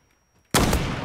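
A single CheyTac sniper rifle shot in the video game Zula bursts out abruptly after a quiet half second, a sharp loud crack followed by a short decaying boom.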